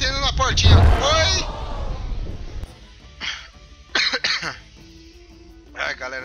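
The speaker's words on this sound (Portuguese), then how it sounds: "Eu tô meio com tosse." A single harsh cough and throat clearing comes through close and loud while someone is playing the Rock of Ages game, followed by a few quieter coughs, with brief talk in Portuguese between them.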